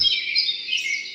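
A synthesized bird chirp is played as a musical note, a single sustained high warbling tone lasting about a second, clear and close.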